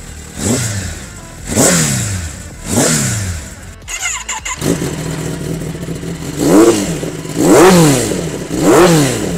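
A 2025 superbike engine, Suzuki Hayabusa or Kawasaki Ninja ZX10R, revs repeatedly, rising and falling in several loud bursts close by, with a brief mechanical clatter midway.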